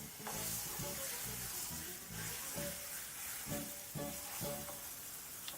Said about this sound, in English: it's very crucial that you actually move your meat around a few times while you actually sear